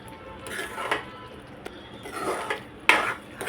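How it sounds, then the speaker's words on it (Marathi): A spoon stirs a sheera mixture of milk and tulsi leaves gently in a pan, giving a few soft metallic scrapes and light clinks close by, with no voices. "हलक्या हाताने मिक्स करायचं"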